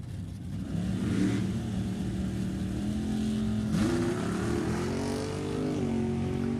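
A 98 S10 and a 69 Camaro launch at a drag race. Engines rise in loud, continuous roaring pitch sweeps with shifts, and the noise stays close and sustained.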